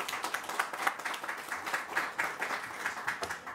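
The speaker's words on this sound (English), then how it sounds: "Let's give Kim Minkle a round of applause" A small group at a vaccination site press event gives a round of applause, fairly quiet, with distinct individual claps in an uneven patter and no speech over it.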